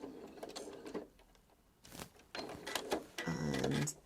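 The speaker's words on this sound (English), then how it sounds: "And a couple of back stitches." A sewing machine puts in a couple of quick back stitches on a fabric-scrap scrunchie, giving short bursts of close mechanical whirring separated by quiet pauses and brief handling clicks.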